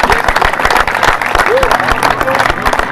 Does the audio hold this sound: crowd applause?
yes